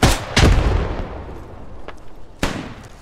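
Heavy gunfire from the military shooter Squad comes as a couple of loud booming shots with long reverberant tails, spaced apart rather than in a rapid burst.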